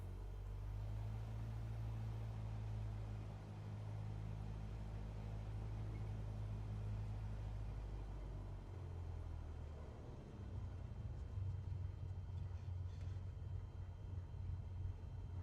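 An engine in a flight simulator runs as a faint, low, steady rumbling drone that shifts in pitch partway through as it revs, heard alone without talking.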